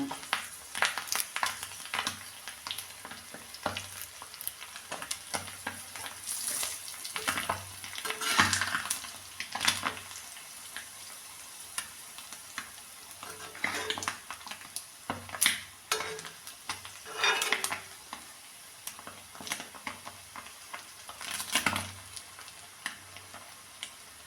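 Sardines fry with curry leaves in a pan for a homemade pickle, a soft continuous sizzle broken by repeated louder crackling spurts and occasional stirring clinks against the pan.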